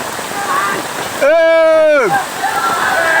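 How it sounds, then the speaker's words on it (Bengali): Rain pours down steadily during a football match played in the wet, a continuous broad hiss throughout, with a loud drawn-out shout or call rising over it partway through. "বৃষ্টির মধ্যে দারুণ খেলা হচ্ছে"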